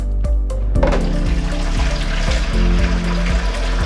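Tap water pours into a 5 quart cooler being filled for clear ice, a loud, close gushing splash with gurgling that deepens as the container fills.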